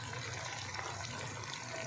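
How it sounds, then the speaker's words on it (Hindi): Water from boiled lentils is poured into a masala cooking for achari daal chana, a faint, steady liquid trickle and sizzle-like wash heard quietly and close, with no voices. "यहाँ पे थोड़ा सा पानी शामिल करेंगे, और पानी मेरे पास वही होगा जो दाल में पानी है"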